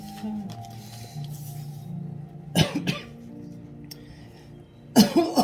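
Two coughs a couple of seconds apart, each a short burst over a steady low background hum.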